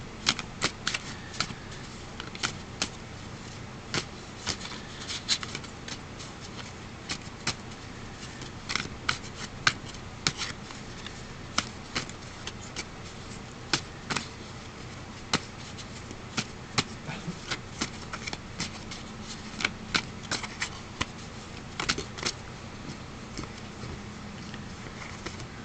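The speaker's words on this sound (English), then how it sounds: "so I'm just going to keep shuffling here a moment" A deck of oracle cards is shuffled continuously, giving quick riffling flicks and sharp snaps that come in uneven bursts, close and dry, with no voices.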